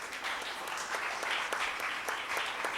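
Audience at a talk about Cornelius the Roman centurion claps steadily throughout, a dense continuous patter of many hands at even loudness, with no voices over it.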